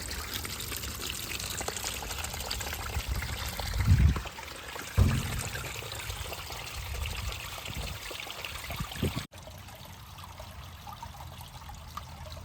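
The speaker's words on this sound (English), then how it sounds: "let's flush it through" Water flushed through a classic Mini Cooper radiator clogged with crystallized antifreeze and rust, a continuous close rushing trickle with a couple of heavier splashing gushes midway before the flow drops to a softer, quieter stream.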